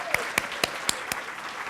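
A handful of sharp, separate hand claps, about five in under two seconds, ring out at an even pace in a quiet room at the Justice Works 2014 gathering, with no sustained cheering.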